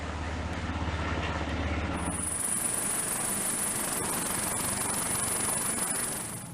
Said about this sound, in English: U.S. Coast Guard helicopters perform overflights to survey the damage